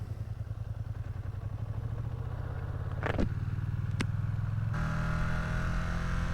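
A Ducati Streetfighter V2 motorcycle pulling away, its engine a steady low throb that swells slightly, with a couple of brief sharp clatters in the middle and a shift in engine tone near the end, heard nearby and fairly quiet.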